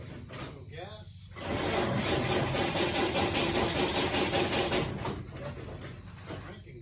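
The engine of a 1947 GMC truck cranks over in a steady, rhythmic churn lasting several seconds, close and loud, with brief clunks and a person talking before and after.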